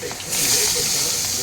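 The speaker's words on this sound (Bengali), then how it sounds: "কড়াইটা গরম হয়ে গেছে, এখন মাছগুলো আমি দিয়ে দেবো আস্তে আস্তে করে।" Pieces of katla fish hit a hot pan and set off a loud, steady sizzle and hiss up close, with a soft voice faintly underneath.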